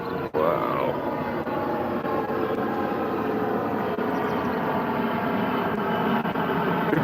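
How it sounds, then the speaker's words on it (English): A fixed-wing airplane drones overhead on a clear Kansas morning, a steady broad engine rumble that holds loud and even throughout. "The plane, the plane."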